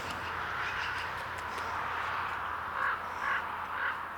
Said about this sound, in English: You can see they're walking around in here too, the crows.